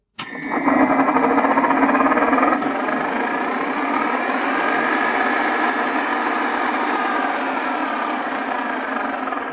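A noisy vertical milling machine with worn bearings starts up and runs steadily, its motor and spindle whirring loudly with a rough, continuous drone and no one talking.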